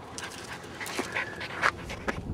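A dog pants and whimpers softly at close range, quick breathy puffs broken by a few thin whines.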